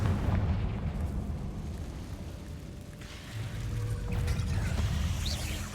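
Confringo fire spell blasting a barricade in Hogwarts Legacy, a heavy rumbling explosion with crackling debris that swells, dips, then surges again, loud and close with no talk.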